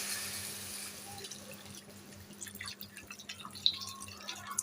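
Water trickles and drips into a cooking pot of drumstick and potato curry in a home kitchen, faint and close, with no talking.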